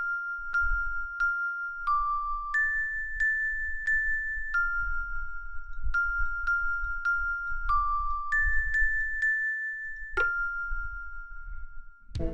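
Bell puzzle chimes from the DOS game Quest for Glory 4: Shadows of Darkness, a sequence of clear single-pitched electronic bell tones stepping up and down in a repeating melodic pattern over faint low rumble, ending with a longer tone and a burst.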